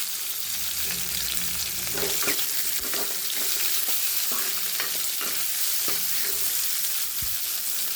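Green chillies and tomatoes sauté in a hot pan with steady, loud sizzling throughout, while a spatula scrapes and knocks against the pan in a loose, repeated rhythm close by.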